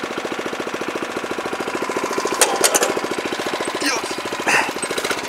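A Mizokiri MKS1000R ditch-cutting rider's small engine runs steadily close by, a fast, even chugging pulse with brief clanking bursts, while someone briefly speaks.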